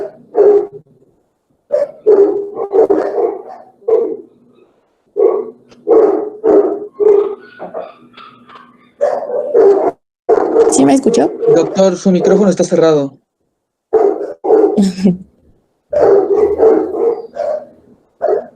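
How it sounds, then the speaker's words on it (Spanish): A dog barks in the background during a Spanish-language online medical lecture. The barking is distant and intermittent, with a denser stretch midway, and is mostly buried under continuous speech. "Estamos oyendo al perro que está ahí atrás ladrando."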